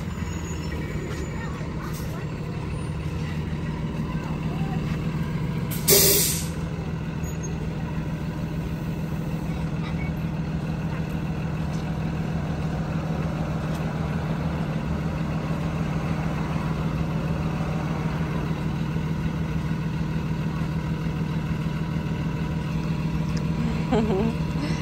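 A school bus pulls up with an engine idling steadily throughout, and a single sharp hiss of air brakes is released partway through, moderately near, with faint voices in the background.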